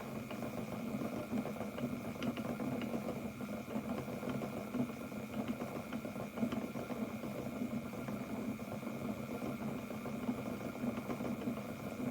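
An Electric Eel Wheel Nano electric spinning wheel runs faster while spinning fine yarn, giving a steady, low motor hum with faint vibration, close and continuous with no talking.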